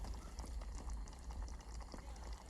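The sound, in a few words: pad thai simmering on a camp stove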